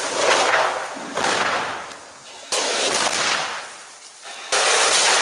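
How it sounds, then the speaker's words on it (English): Thermite shaped cutter charges cutting steel beams in a backyard test go off in a series of sharp, loud bangs, each a sudden blast that decays slowly before the next one. "So the explosions are heard, but they're actually muted, and they can cut through steel beams, as you see here."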